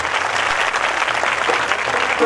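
Audience applause fills a Gazza Peer fair at Lambri in 2016, a dense, sustained clapping from many hands at even loudness throughout.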